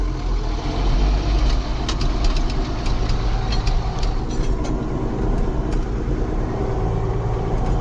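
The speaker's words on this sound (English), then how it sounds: "Take it for a short little drive." A Ford TW tractor's diesel engine runs loud and steady on a short drive, its deep continuous rumble joined by occasional light clanks and rattles.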